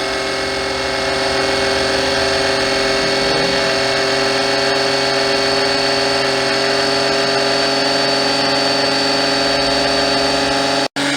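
A cheap 12V electric oil extractor pump runs steadily, pulling engine oil with a loud, constant mechanical drone and whine that holds unchanged until it cuts off abruptly at the very end.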